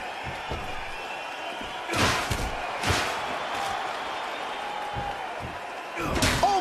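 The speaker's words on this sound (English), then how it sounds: "Oh my God, what a chair shot." A steel chair strike in the wrestling video game WWE Smackdown vs Raw 2011 lands as a sharp metallic slam, followed by further heavy thuds over steady arena crowd noise and commentary.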